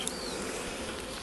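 A bee swarm hums in a dense, continuous drone, faint and steady throughout a short moment outdoors in the rain.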